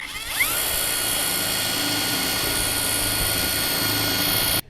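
A rotary hammer drill bores into concrete with a loud, steady, high-pitched whine and grinding roar that runs unbroken for about four seconds after a brief spin-up, then cuts off abruptly.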